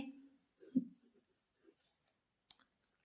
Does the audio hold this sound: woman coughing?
no